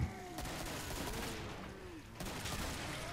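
Automatic gunfire in the Killing Floor shooter game, a dense, continuous rattle of rapid shots that fills the whole stretch at steady loudness with little letup.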